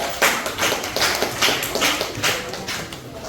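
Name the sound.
students applauding a classmate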